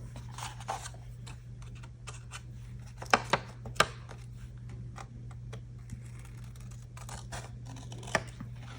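Scissors snip through paper in a quick, uneven series of close, crisp cuts over a low steady hum, with a few sharper clicks.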